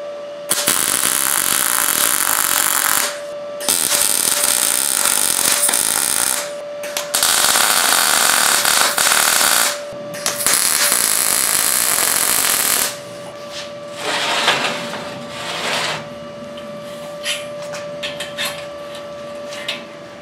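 A MIG welder tack-welds the inside corners of heavy steel in several loud crackling, buzzing bursts of a few seconds each, separated by short pauses, then quieter handling noise.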